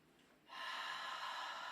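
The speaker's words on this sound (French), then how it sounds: "Inspire par le nez." A single sharp nasal inhale taken during a Pilates exercise, starting abruptly after a quiet moment and holding steady as a loud, airy, close rush of breath with no talk over it.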